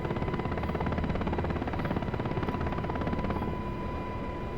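UH-60 Blackhawk helicopter in the DCS flight simulator, a loud continuous rotor and turbine drone with a rapid steady blade thump and a whining tone running throughout.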